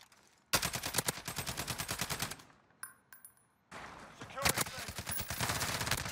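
A FAMAS hip-fired in a video game lets off rapid, evenly spaced bursts of loud gunshots, with a brief gap of quieter game sounds before another sustained burst of automatic fire.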